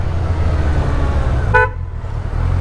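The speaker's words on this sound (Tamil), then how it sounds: "ஓ, ஹார்னும் நல்லா மாடிஃபை பண்ணி வச்சுருக்காங்கப்பா." A single short, bright toot comes from the modified horn of a Kawasaki touring superbike, sounding close and loud over a low idling engine rumble.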